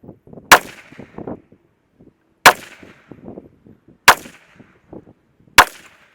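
Suppressed Ruger SFAR rifle firing NATO rounds: four sharp, loud shots spaced over about a second and a half each, every crack followed by a short metallic ring and rattle, with no voices.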